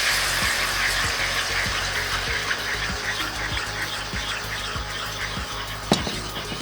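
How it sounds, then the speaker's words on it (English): Turkey juice pours into a gravy pan of hot oil and flour, a continuous watery splash and bubbling sizzle with light clinks, ending in a sharp knock. "And now let's add the turkey juice."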